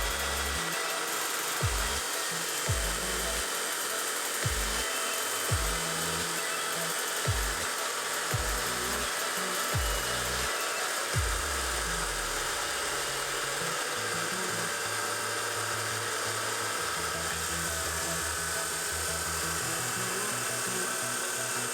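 A power tool cuts through a plastic container being made into a composting toilet for a campervan. It gives a loud, steady, high-pitched grinding whine, with short heavy bursts in the first half.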